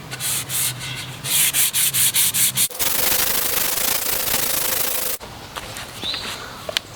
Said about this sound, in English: now I'm finishing it off with some 320 grit